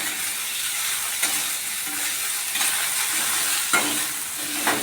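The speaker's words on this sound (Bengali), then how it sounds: "যতক্ষণ না সবজিগুলো নরম হবে আমি ততক্ষণ এগুলো নাড়তে থাকবো।" Potatoes and carrots frying in a pan, stirred now and then with a utensil; a constant close sizzle with periodic scraping strokes over it, and no talking.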